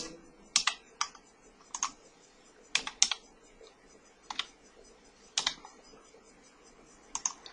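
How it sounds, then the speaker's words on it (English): Customer details for an order are typed on a computer keyboard in short, irregular bursts of crisp, close keystrokes with brief pauses between them, and no one speaks. "let's type in some customer details"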